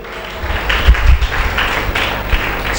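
A church congregation claps together in a steady rhythm, a loud crowd of hands close by with thumping beats underneath, continuous across the moment.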